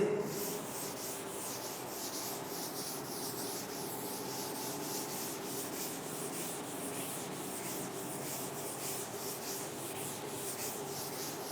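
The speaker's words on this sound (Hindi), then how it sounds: "Can I rub this?" Steady rubbing of a duster wiping a classroom whiteboard clean, continuous brisk scrubbing strokes close by with no talking.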